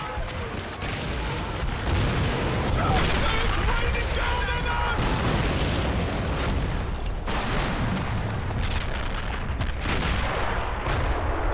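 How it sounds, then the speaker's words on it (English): Katyusha rocket barrages pound a Stalingrad city position in Men of War: Assault Squad, with loud continuous booms and crackling gunfire rolling together into a dense, unbroken din and a voice faintly talking underneath. "Soviets firing Katyushas at our position after they've broken through inside the city"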